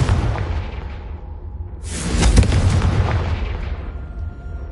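A Confringo fire spell bursts in a wizarding video game, a loud booming explosion with a brief dip and then a second, bigger blast that rolls off into a long rumbling decay.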